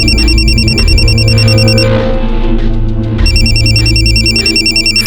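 A phone rings loudly and insistently in a tense household drama scene, two long bursts of trilling electronic tones over a low musical drone.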